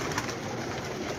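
Pigeons cooing in a rooftop loft, a dense close-up chorus of overlapping soft coos with no pauses.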